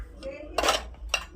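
Dishes and cutlery clink in a home kitchen, two quick bright clatters about half a second apart, close and fairly quiet.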